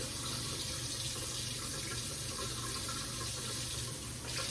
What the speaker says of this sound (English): I'll let this water get pretty cold.